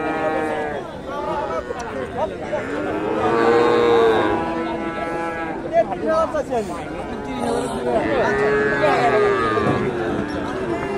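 Friesian and local cattle at a busy livestock market in Bogura, Bangladesh, with low moos and lowing rising over a dense crowd of talking voices throughout.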